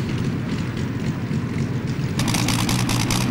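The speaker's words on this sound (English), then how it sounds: "This is a Rolls-Royce Meteor V12, really looking impressive in the dark." A pulling tractor powered by a Rolls-Royce Meteor V12 engine at a night tractor pulling event in Bernay, France, producing a loud, dense, continuous roar that swells sharply partway through.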